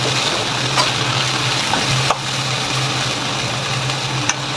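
Pork and green beans stir-fry over high heat in a pan, giving a steady loud sizzle with occasional scrapes and clinks of the utensil.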